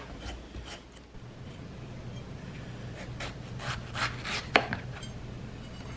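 A big mango is cut with a knife, soft close rubbing and slicing strokes in irregular bursts, with a sharper cut near the end.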